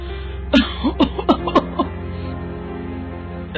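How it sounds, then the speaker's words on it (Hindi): A short series of raspy coughs from a cartoon character, about five bursts close together, fairly near, followed by quiet background. "ये खांसी तो जा ही नहीं रही है।"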